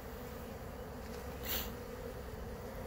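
Honey bees buzz steadily around a seven-frame deep swarm trap hive in the late afternoon, a continuous moderately loud hum with a brief swell as one flies close past.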